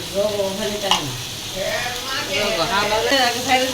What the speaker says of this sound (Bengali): পেঁয়াজ ভেজে নেওয়া হচ্ছে সাথে এলাচ আদা রসুনটাকে ভালো করে ভেজে নেওয়া